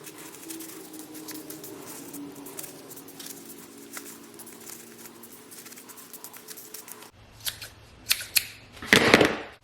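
A few sharp, crisp snips of scissors with glue residue on the blades cutting tape near the end, after a stretch of steady low background noise.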